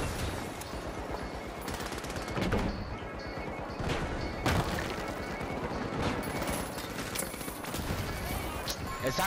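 Rapid bursts of video game gunfire and heavy cannon booms crackle throughout the game The Finals, dense and loud, with a voice talking over the action.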